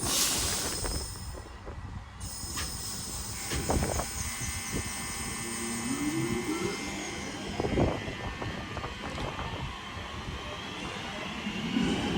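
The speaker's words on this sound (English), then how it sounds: "Now departing is a 323 going to Crewe." A British Rail Class 323 electric multiple unit departing Roby station toward Crewe: a low rumbling drive and rising electric whine with rail clatter, moderately distant, ending in a high brake or motor tone, no voices.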